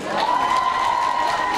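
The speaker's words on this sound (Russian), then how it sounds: "Аплодисменты." A festival crowd cheering and clapping in a large hall, a dense steady roar of shouts and applause close and loud throughout the short burst.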